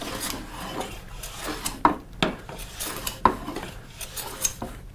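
Hand plane on a restored garage-sale bench plane taking very thin wispy shavings, heard as a few soft, brief rasping strokes, close and fairly quiet, with no talking.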